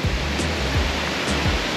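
The Sawatkada waterfall near Rajapur pours in a steady, dense roar of falling water, loud and close, with low thuds recurring through the rush and no voices.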